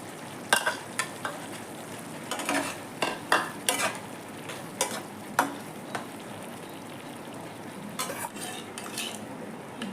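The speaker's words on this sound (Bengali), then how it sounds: "চিংড়ি মাছের ঝোলটা ফুটে উঠছে এখন দিয়ে দেবো ভেজে চিংড়ি মাছ" A spoon scrapes and clinks against a pot in repeated strokes over a steady simmering sizzle of boiling shrimp curry.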